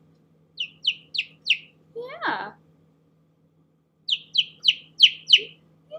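A week-old baby bird gives a run of four quick high chirps, then a longer string of five or six, close and clear in a quiet room, with a brief spoken word between the bursts.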